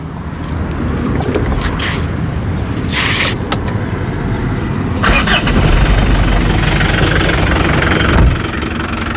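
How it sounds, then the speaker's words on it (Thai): A Mitsubishi Strada pickup's engine runs steadily at close range, a dense, rumbling idle with bursts of rattling noise above it and no voices. "ขี้เกียจโม้แล้วฟังเสียงเครื่องเลย"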